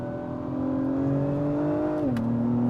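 An Acura TLX engine revs toward the red line, a steady climbing whir that holds, then drops sharply in pitch as the revs fall, with no talk.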